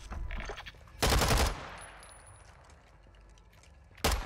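Gunfire in a first-person shooter game: a loud burst of automatic fire opens, a second heavy burst follows after a pause, then a low rumbling lull and another sharp shot near the end.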